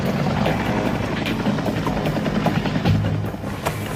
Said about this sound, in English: Surveillance helicopters and jets have buzzed the expedition